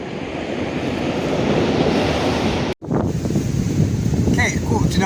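Surf rolls and breaks steadily onto the beach at Hopton on Sea in choppy, rough conditions, a loud continuous wash mixed with wind buffeting the microphone, briefly cutting out before resuming, with faint voices near the end.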